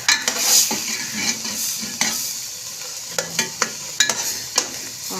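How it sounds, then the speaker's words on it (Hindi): A spoon scrapes and clacks against the pan as spinach and meat curry (palak gosht) is stirred and fried, over a constant sizzle, with close, irregular knocks through the stir. "अब अच्छी तरह भून लें, अच्छी तरह चमचा हिला हिला के ना, इस तरह अच्छी तरह।"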